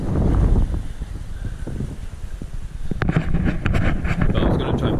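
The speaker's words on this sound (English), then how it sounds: "Oh, it's a bit windy." Gusty wind buffets the microphone at a campsite with a few tents pitched nearby, a steady loud rumble throughout that surges stronger in the second half, with no voices.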